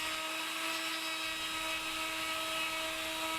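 A router-style cutter head shaping a small curved trim piece of moulding for a traditional queen bed build: a continuous high-pitched whine with steady tonal hum, close and loud throughout.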